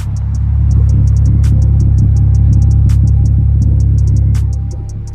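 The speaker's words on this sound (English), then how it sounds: "that's how the idle is right now" Car idling with Berk test pipes and a Megan Racing single exit, straight-piped apart from one muffler: a loud, steady low rumble with a throbbing pulse and faint ticking above, no talking.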